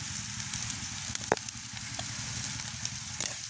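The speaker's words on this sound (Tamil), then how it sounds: "வெங்காயம் பச்சை மிளகாய் கனவாய் எல்லாம் நல்லா வதங்கி வந்துட்டு" Onion, green chili and squid fry in a pan with a steady close sizzle and a few sharp crackles or stirring clicks, no talking.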